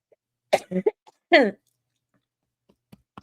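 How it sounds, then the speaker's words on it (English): Two short, gruff throat-clearing bursts close to the mic, separated by a brief pause, followed by quiet near-silence with a few faint clicks. "clear my throat"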